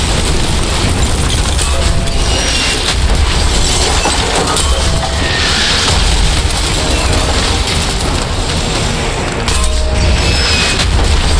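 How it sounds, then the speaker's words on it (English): Mortar shells bursting in Call of Duty 4: Modern Warfare during a village assault: dense, continuous battle noise with heavy booms and rumbling blasts filling the whole stretch, loud and without let-up. "If it moves, put a mortar shell on it. Keep firing mortar!"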